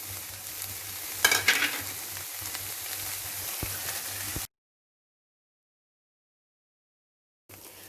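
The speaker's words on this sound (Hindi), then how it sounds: "अब इसमें हम मखाने डाल देंगे और इसको भी 1-2 मिनट इसी में भूनेंगे।" Fox nuts and dry fruits roast in melted khoa, giving a soft, continuous sizzle with scraping stirring strokes for several seconds. The sound then cuts to silence before briefly resuming.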